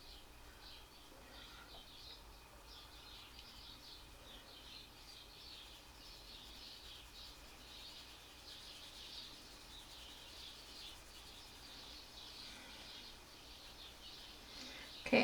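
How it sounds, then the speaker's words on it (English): Many birds in a backyard chirp and twitter continuously, faint and distant over a quiet hiss of background noise. "And the gazillions of birds in my yard."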